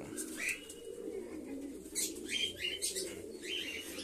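Pigeons coo softly in the background while several quick bursts of wing flapping and fluttering break in near the middle and end, faint overall and without speech.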